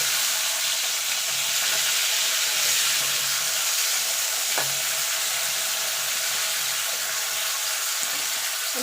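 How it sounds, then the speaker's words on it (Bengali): Green beans (flat shim beans) frying in oil, a dense continuous hiss of sizzling with a faint clink from stirring, loud and close throughout, with no talking. "এই তেলে সিমটাও ভেজে নেব।"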